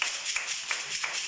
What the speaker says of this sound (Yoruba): Pàtẹ́wọ́ fún Jésù